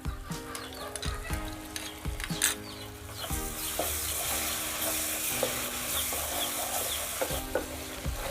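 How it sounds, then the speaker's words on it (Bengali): Sour yogurt stirred into a spice paste in a hot pan for a vegetarian eggplant curry, with loud, close sizzling and repeated scraping strokes of a spoon across the pan throughout. "টক দইটাকে মশলার সাথে ভালো করে কষিয়ে নিব।"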